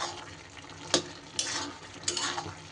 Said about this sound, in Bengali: বড়ি দেওয়ার পর আরও 4-5 মিনিট রান্নাটা আমি কিন্তু মাঝারি আঁচে করে নিই